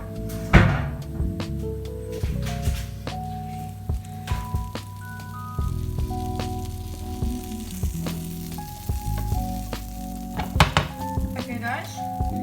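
Butter melts in a frying pan on a stove for pancakes, giving a soft sizzle under clattering pan and utensil knocks, with some scraping and faint background tones throughout.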